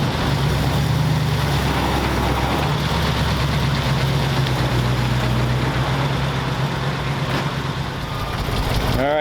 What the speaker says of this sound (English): got it outside, idling nice and low and quiet. Very nice and quiet engine